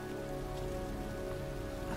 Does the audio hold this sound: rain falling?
yes